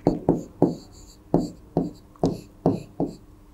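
Chalk or a marker on a board makes a run of crisp taps and short strokes, about eight in a loose uneven rhythm, close and clear with no talking over them.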